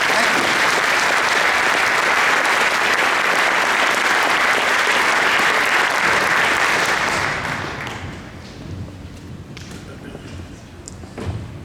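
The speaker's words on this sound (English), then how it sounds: "could we have a round of applause for Jordan, Kevin, and Kathy?" Luncheon audience at an economic forecast event breaks into loud, dense applause for about eight seconds, then the clapping thins and fades into room noise with a few scattered thumps and taps.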